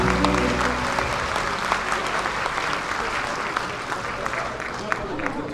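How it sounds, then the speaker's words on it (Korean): Crowd applause at a Nonsan city citizens' dialogue event, steady and sustained clapping from a seated audience filling the room, close and fairly loud with scattered louder claps. "박수 부탁드리겠습니다"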